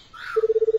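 Keypad dialing in the horror video game PARANOIAC: a short rising electronic chirp leads into a quick, even string of about eight beeps. The sound is brief and moderately loud, with no talking.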